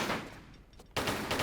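Gunshots in the video game Tomb Raider 3, a loud burst of rapid shots that briefly dips and then resumes strongly, close and with no talking over it.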